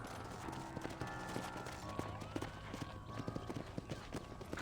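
Rhythmic hoofbeats of a horse galloping close by in Red Dead Redemption, with game music and effects underneath, steady clip-clop over several seconds.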